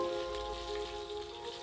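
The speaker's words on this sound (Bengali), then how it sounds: "হালকা করে ভেজে নিয়ে আমি এখন ডিমটা তুলে নিব।" Boiled eggs fry lightly in hot oil for a dak bungalow chicken dish, giving a quiet, steady sizzle with a faint background hum, soft and continuous with no voices.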